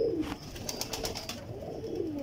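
A pigeon coos close by in a steady, continuous run of soft, throaty calls that fills the short stretch without pause, with no talking over it.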